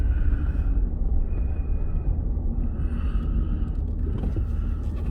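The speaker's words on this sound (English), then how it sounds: "There's another vehicle down here" A vehicle driving on a remote Arctic trapping route, a steady low rumble with faint creaks and mechanical rattles throughout.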